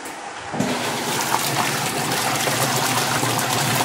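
An LG automatic washing machine, converted to manual drain motor operation, agitates a small amount of water in its tub with a steady sloshing churn that starts abruptly and continues loud and close throughout.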